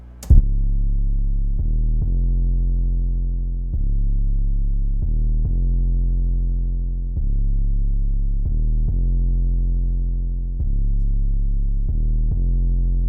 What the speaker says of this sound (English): I used the Somatics Barracuda Aero 808, very good 808